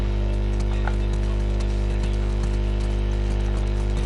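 Horse hooves clip-clop steadily over a loud constant low hum in The Last of Us Part II, the footfalls faint and regular beneath the drone, with no talking.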